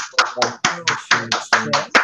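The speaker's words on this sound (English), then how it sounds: "Unmute yourselves, everyone. A massive round of applause for an incredible, powerful, uncompromising." An online audience unmutes and claps over a video call, giving a few loud, rhythmic bursts roughly every half second, each mixed with voiced cheering from several participants.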